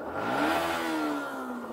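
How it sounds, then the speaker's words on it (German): A Yamaha MT125 motorcycle engine revs up and holds a steady, buzzing mid-pitched drone for a moment, then eases off slightly, heard close and fairly loud with no talking. "Äh, eine MT125. Einmal Soundcheck, bitte."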